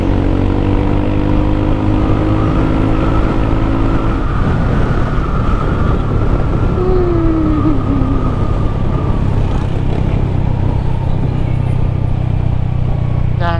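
Yamaha XMAX 300 scooter, a 300cc machine, riding along a main road, its engine droning steadily under loud wind rush, with a passing vehicle's tone sweeping by partway through.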